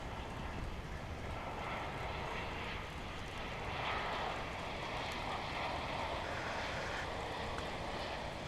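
An airliner lands at DFW International Airport after a 15-hour flight, its engine roar steady and fairly faint at a distance, swelling slightly midway, with no talk.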